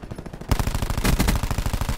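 Rapid automatic fire from a Cordite submachine gun in Call of Duty, a steady rattling burst of evenly spaced shots starting abruptly and sustained, loud and close with no talking.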